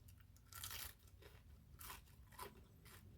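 Crisp air-fried food is bitten and chewed at a mukbang table, giving a few faint, separate crunches spread over about three seconds, close to the mic with no talking.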